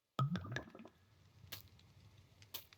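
Squishy watery splashes from Minecraft in the Craftoria modpack: a few quick wet bursts at the start, then faint drips and soft splashes at intervals.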